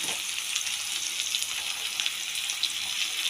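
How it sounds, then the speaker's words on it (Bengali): Potatoes frying in oil with turmeric and salt give a steady, close hiss of sizzling with faint crackles, continuous and alone without speech. "আলুটা ভাজার জন্য দিয়ে দিচ্ছি একটু হলুদ আর একটু নুন"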